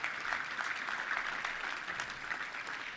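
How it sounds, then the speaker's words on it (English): A luncheon audience at a touchdown club gathering applauds two staff members, a steady patter of many hands clapping, fairly distant and even throughout. "Let's give them both a round of applause for Ryan and Alicia."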